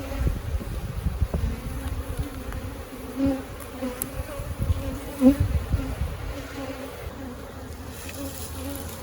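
A dense, continuous buzz of many honey bees around a hive during honey flow, close by, with occasional louder individual bees passing near.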